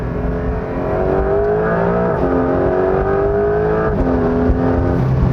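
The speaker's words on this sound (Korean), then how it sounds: "터빈 소리" A loud Porsche 911 4 GTS turbo engine revs up steadily nearby, its pitch climbing, with two brief dips as it shifts gears.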